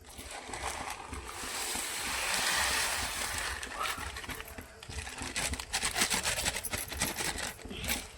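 Rice poured into a pot of hot salted water, giving a soft splashing, rustling pour with crinkly scattering grains and bubbling water, moderately loud and continuous throughout.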